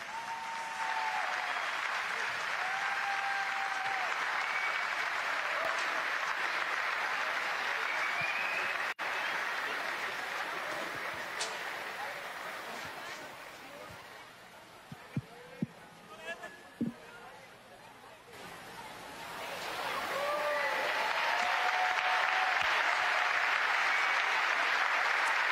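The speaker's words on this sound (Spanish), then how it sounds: "Acompañamos con un fuerte aplauso." A church crusade crowd in Argentina applauds loudly and steadily, the clapping easing briefly midway before swelling again, with voices speaking over it at the start and near the end.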